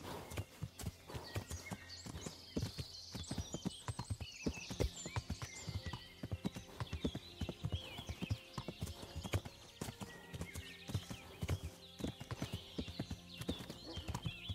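Horse hooves clopping steadily in the medieval game Kingdom Come: Deliverance, a dense close rhythm of hoofbeats with a whinny rising over them and faint game ambience beneath.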